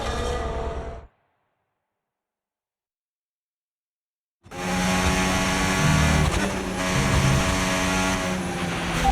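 Formula 1 car engines from the racing game F1 25 at Silverstone, a loud sustained roar and whine that cuts off abruptly into silence, then returns just as loud and steady for the rest.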